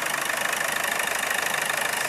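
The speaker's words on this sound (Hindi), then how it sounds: "जो कि इंजन भी स्टार्ट है, देखिए इंजन में कोई हंटिंग वगैरह है नहीं" A Hyundai Verna diesel engine, recently troubled by black smoke, idles steadily at close range with an even, continuous rumble and no voices.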